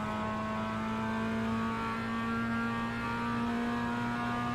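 A Mazda MX-5 race car engine in iRacing at Okayama, holding a steady, droning hum at fairly constant revs with a faint whine above it, continuous and even throughout, no voices.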